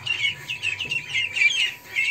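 Young ducklings peep and squawk in a rapid, high-pitched chatter while pecking at food, a steady cluster of calls close by with no talk.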